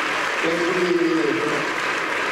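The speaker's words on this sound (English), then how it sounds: "Give a round of applause" Audience at a live stand-up comedy show applauding, a dense steady wash of clapping with a sustained tonal hum or voice riding over it for a couple of seconds.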